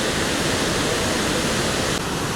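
A waterfall at Lake Como, Italy, pours as a loud, steady, dense rush of falling water that stays unbroken for the whole short stretch.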